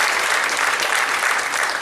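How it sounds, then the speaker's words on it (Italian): Brief burst of crowd applause for children at an outdoor religious procession and Mass honoring an icon of the Madonna, dense, loud and steady clapping from many people. "Facciamo un applauso a tutti i bambini del mondo, ma soprattutto ai nostri"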